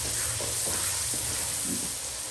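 Garlic paste frying in a pan for a chilli pickle, a steady broad sizzle with faint scraping stirs, continuous and fairly close.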